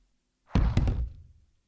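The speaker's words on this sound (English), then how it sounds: "The cat door shook again as something slammed into it from the other side." Something slams into a locked thin metal cat door, giving two quick heavy knocks that ring briefly and fade, close and sharp in an otherwise quiet room.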